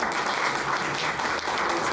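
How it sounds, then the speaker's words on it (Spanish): An audience gives a presenter a hearty round of applause at a talk on food policy. Dense, steady clapping fills the whole stretch at an even level, with no voices standing out. "Entonces le damos un fuerte aplauso."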